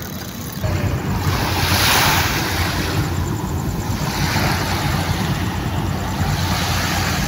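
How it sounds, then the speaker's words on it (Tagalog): Steady roar of ocean surf washing onto the shore, continuous and fairly loud, with gusts of wind buffeting the microphone. "Dito kami sa may dagat."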